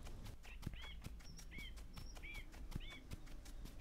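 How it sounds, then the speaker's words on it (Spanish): Birds chirp in the ambient soundscape of the Roblox game Blacklands, several short, bright calls repeating at a steady pace over a low rumbling background with occasional soft clicks. "Se escucha el sonido de las aves"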